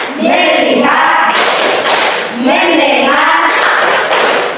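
A class of schoolchildren performs a rhythmic clapping routine, their chanting voices running in loud bursts between the sharp group claps.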